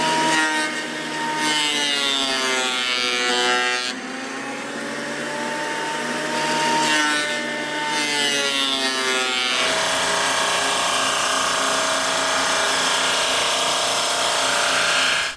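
A power saw cuts a planed wooden board, milled from rough Alaskan chainsaw-mill lumber, to width: a loud whining motor rises and falls in pitch, then settles into a steady harsh roar of blade through wood.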